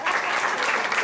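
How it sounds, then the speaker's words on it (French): An audience at a magic show claps loudly and steadily, a dense wash of applause filling the room throughout. "on va l'applaudir bien fort"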